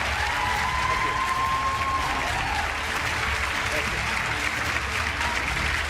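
Town hall audience applauding Pete Buttigieg, former South Bend, Indiana mayor: dense, steady clapping from a large crowd fills the room throughout, with a brief tone near the start.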